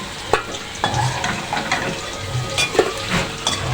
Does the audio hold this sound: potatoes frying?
yes